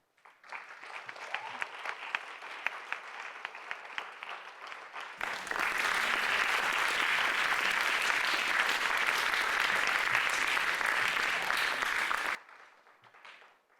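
An audience breaks into warm applause to welcome Carnatic musician Ananya at a Bay Area concert, first a scattered, lighter clapping that then swells into full, steady applause before fading out at the end.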